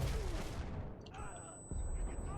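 Machine gun fire in the World War II shooter game Enlisted, a loud rapid burst of shots up close that fades and then cuts back in, with a thin high tone in the game's sound.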